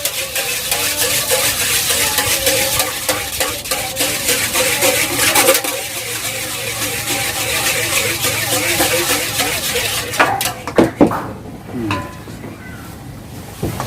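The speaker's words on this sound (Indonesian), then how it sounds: "Ini telur, saudara, kita aduk-aduk" Beaten eggs stirred steadily in a bowl for a srikaya (coconut egg jam) mixture, a continuous scraping, sloshing sound that runs close and loud, ending in a few sharper knocks against the bowl.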